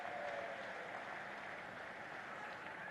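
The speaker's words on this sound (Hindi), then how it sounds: "प्रधानमंत्री नरेंद्र मोदी जी का एक बार जोरदार तालियों के साथ स्वागत और अभिनंदन करें।" Audience applause at a public event in Rajasthan greeting India's Prime Minister, a steady, broad wash of clapping that holds evenly throughout at moderate distance, with no voices standing out.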